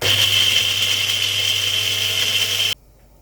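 A mixer grinder grinding garlic and spices whirs at a steady high pitch for a few seconds, close and loud, then cuts off abruptly into silence.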